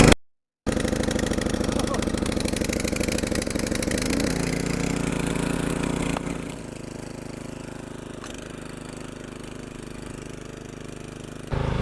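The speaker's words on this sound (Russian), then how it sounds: "Завелся мотоблок очень быстро" A walk-behind tractor engine at a country house catches and runs, a steady close mid-pitched chugging drone that eases down and settles to a lower idle partway through.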